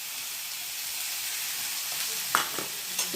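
Tomato and coconut pieces fry in a pan with a steady, bright sizzling hiss, broken near the end by a few clinks and scrapes of stirring.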